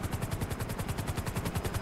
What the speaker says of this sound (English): You're now flying off into the sunset in our gold helicopter.